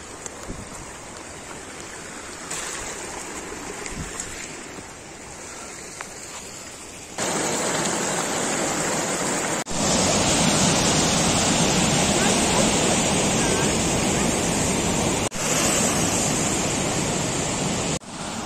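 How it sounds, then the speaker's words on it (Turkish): Water gushes at a spring source in Kyrgyzstan, a steady broadband rush that swells louder partway through and stays close and continuous, with a voice speaking briefly over it. "Yine suyun doğduğu yere geldik."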